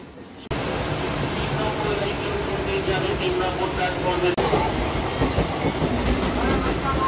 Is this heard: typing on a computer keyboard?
no